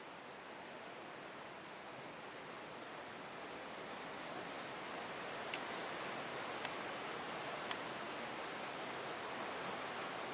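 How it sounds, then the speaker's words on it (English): The Fraser River rushing below a steel grating walkway, a steady broad roar of flowing water at constant level with a few faint clicks on top. "That is the Fraser River."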